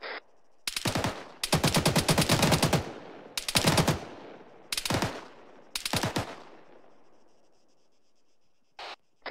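Machine gun fire in the video game ArmA 3: five loud bursts of rapid shots, one long and the others short, with fading echoes between them and quiet gaps.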